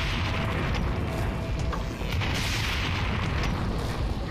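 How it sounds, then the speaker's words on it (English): Rocket launcher blasts and explosions in Resident Evil 4 VR Mercenaries mode, a dense continuous roar of booms and bursts with sharp pops layered throughout, loud and unbroken. "Rocket Launcher is so much better now."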